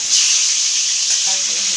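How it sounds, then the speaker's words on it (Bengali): Potatoes frying in hot oil in a wok give off a steady, loud, close sizzle with a constant bright hiss and faint stirring clinks near the end. "আলুগুলো ভাজা হচ্ছে"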